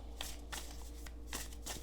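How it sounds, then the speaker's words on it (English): A deck of tarot cards is shuffled close up in several quick, papery bursts, each about a beat apart, with no talking. "I'm just going to shuffle a bunch of times here, and then I'll cut the deck twice."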